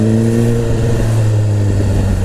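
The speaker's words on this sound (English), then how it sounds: "Sounds beast with that exhaust on." A 2017 Suzuki GSX-R1000 sport motorcycle with an aftermarket exhaust, about 200 hp, revs loud and close, its deep exhaust note holding steady and rising slightly over a couple of seconds.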